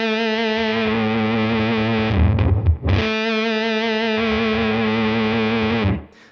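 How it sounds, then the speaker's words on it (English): An electric guitar through a Mythos Pedals Hephaestus fuzz pedal drones thick, distorted single notes with a lower octave added beneath, broken by a brief scrape partway through before the tone resumes and cuts off. "when you start playing single notes and you turn this knob down, you'll hear that octave drop"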